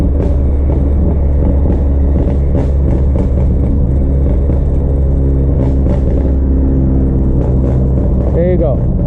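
2018 Honda Accord exhaust burbling as the gas is tapped: a loud, steady low rumble with faint irregular pops, heard close up, and a voice speaks over it.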